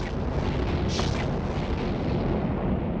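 Missile strike explosions in the space game Eve Online form a dense, continuous rumbling roar, with a brighter crackling burst around the one-second mark, steady and loud throughout with no voices.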